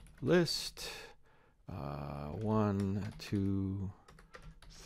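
Steady typing on a computer keyboard clicks along close by beneath a person speaking about entering text.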